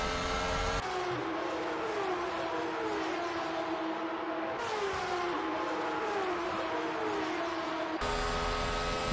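Formula E electric race cars from the game Formula E Manager whine past with steady, rising and falling electric motor tones. The sound is continuous, moderately loud and has no talk over it.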